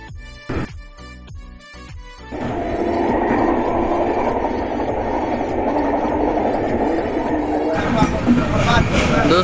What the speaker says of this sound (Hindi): दोस्तों 5 मिनट आउट के बाद अपनी ट्रेन निकल चुकी है बिहार के मानसी जंक्शन